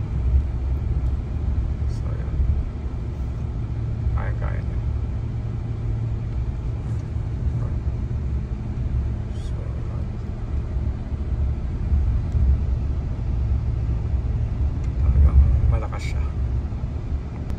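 A 2024 Hyundai Santa Fe XRT climbing a steep snowy hill, its engine working hard and heard from inside the cabin as a steady low droning rumble. Someone talks over it throughout.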